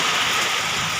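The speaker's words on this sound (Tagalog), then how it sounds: "Rinig naman sa patak ng ulan." Steady, dense hiss of heavy rain pouring down in a storm with strong wind, a constant wash of noise with no talking.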